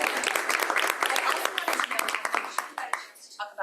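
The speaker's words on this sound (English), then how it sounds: "If we can give them a round of applause." Audience applause at a design conference session, a dense wash of clapping through most of the clip that thins toward the end.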